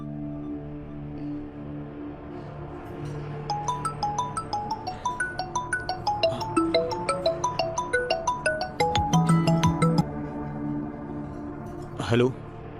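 Outgoing call on a mobile phone: a repeating melodic ringback tune of bright tones plays at moderate volume, then stops with a short click before a voice answers.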